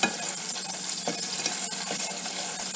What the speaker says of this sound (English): And now we get the flavors of the vegetable going into the oil.